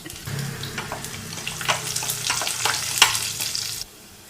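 Crushed garlic hits hot tempering oil with cumin and dried red chillies for a moringa leaf dal, giving a lively sizzle with a few sharp clinks of stirring, close and steady before it suddenly stops.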